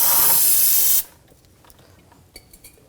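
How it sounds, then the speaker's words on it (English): Brake parts cleaner bursts from an aerosol can onto the brakes of a BMW X5 in one loud, close hiss lasting about a second, then stops, leaving a few faint clicks. "Little brake parts cleaner."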